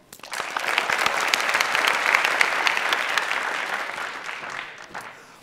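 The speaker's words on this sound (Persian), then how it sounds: "عارف را تشویق کنید." Studio audience of the Afghan Family Feud game show applauding a contestant: a dense burst of clapping that swells quickly, holds steady for several seconds, then tapers off.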